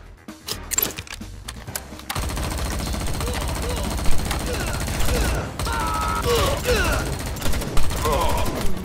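Gunfire in the XIII remake video game, with a few scattered shots giving way to a steady stretch of rapid automatic fire and clattering mechanical clicks, loud and close, while someone talks over it.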